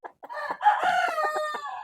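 Chickens cluck close by, a run of short, choppy calls merging into a longer drawn-out squawk, then more brief clucks; no speech.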